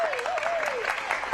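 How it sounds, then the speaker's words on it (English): Audience applause at a telethon, a brief burst of dense, steady clapping from a crowd, with a faint tone running underneath. "a big round of applause"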